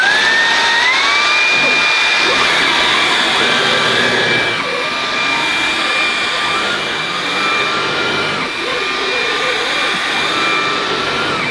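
A Halo Capsule bagged cordless vacuum cleaner runs on its maximum setting over plush pile carpet, giving a steady, loud, close motor whine with a high tonal hum that shifts slightly in pitch as the head moves, with no talk.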